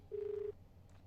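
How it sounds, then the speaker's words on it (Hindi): Outgoing-call ringback tone on a phone line, a single steady pulse of about half a second, clear over faint line hiss with no talking. "ये आप जो बेल सुन रहे हैं, ये उन्हीं के फ़ोन की बेल है"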